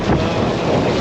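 Wind gusting steadily across a sailboat while the mainsail goes up on a solo sail to Catalina Island, a constant loud rushing roar with buffeting on the microphone and no voices.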